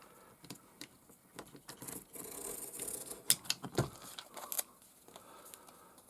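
Scissors snip through adhesive tape during a Tamiya DT04 Fighter Nxgen RC car build, giving a few quiet, close crinkles and crisp cuts clustered in the middle of the stretch, with soft handling rustle around them.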